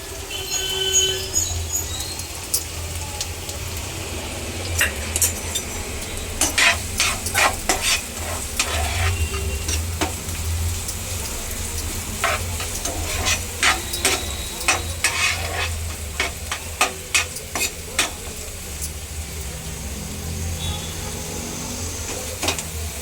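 Curry leaves and onion fry in hot oil for dry small prawns (suka jawla), giving a steady, close sizzle with scattered sharp crackles and spatters. Stirring clinks and scrapes rise over the hiss now and then.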